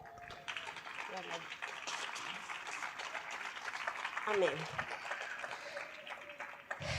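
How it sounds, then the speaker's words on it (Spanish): Church congregation clapping for the Lord during a Spanish-language service, a steady dense wash of palms running the whole stretch, with a single spoken word near the start. "Dale fuertes palmas al Señor."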